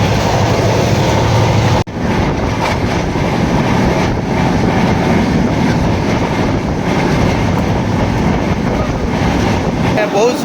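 A crowded passenger train heading to Bhubaneswar rolls along the rails, a loud continuous rumble and rattle with a brief dropout near the start, wind buffeting throughout.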